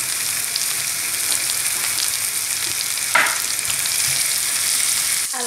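Small apricots sizzle in melted butter in a frying pan, a steady, close hiss throughout, with a brief utensil knock midway and a clunk at the end; nobody speaks.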